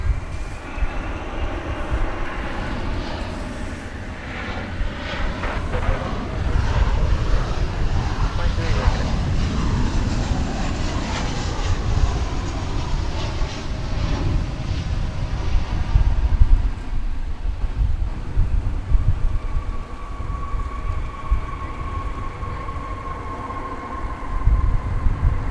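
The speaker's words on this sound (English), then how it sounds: "Arriving from Vancouver, American Flight 1099, the 737-800." An American Airlines Boeing 737-800 arriving at DFW airport from Vancouver, a broad, steady roar of engine and rushing air holding for the whole stretch, loud and fairly near, with a faint whine near the end.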